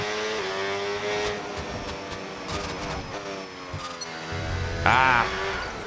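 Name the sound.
race car engine in video game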